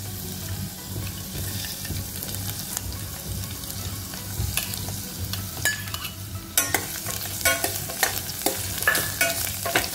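Chopped fresh dates frying in hot desi ghee for a date kheer, heard as a steady close sizzle with a low hum and increasingly frequent scraping stirs in the second half, no speech.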